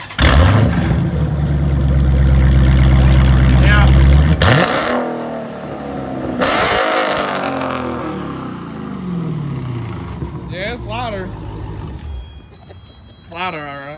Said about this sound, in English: He's going to start gonna start it up so I can hear that exhaust.